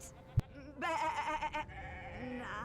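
A sheep in the video game Divinity: Original Sin 2 gives a single wavering bleat of about a second, clear and fairly close, after a brief sharp click, with a quieter tonal sound following.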